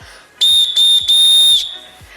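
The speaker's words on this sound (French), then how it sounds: "Je vais siffler" Three sharp, shrill whistle blasts in quick succession, loud and close, the last one held a little longer.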